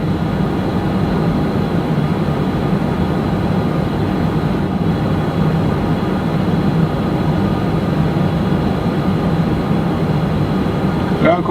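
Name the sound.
aircraft engine number 1 starting on external pneumatic power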